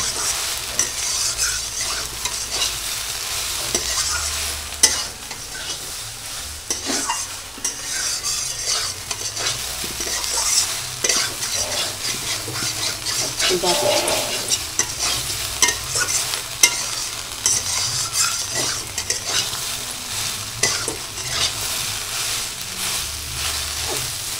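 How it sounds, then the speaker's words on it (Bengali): Potato, soybean and pumpkin frying with cumin, bay leaf and spices in a pan, producing a continuous sizzle with repeated scraping and clattering from stirring throughout. "আমি আলু, সয়াবিন, এক কুমড়া দিয়ে জিরে, তেজপাতা, মশলা দিয়ে কষিয়ে নিচ্ছি মাংসের মতো।"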